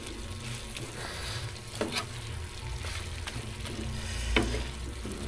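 Sizzling sauce stirred in a pan, a steady soft frying hiss with a few faint scrapes of the spoon scattered through it.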